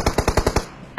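A rapid burst of about six automatic gunshots in PUBG Mobile, evenly spaced and loud, then a brief quiet tail and one more faint shot at the end.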